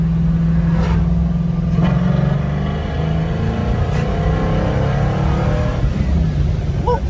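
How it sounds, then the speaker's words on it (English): A '67 Chevelle with a Musi 555ci engine and custom Lemons headers rumbles loudly up close, its deep exhaust note rising and falling through several revs and accelerations. "It's a fast car. It's a scary car"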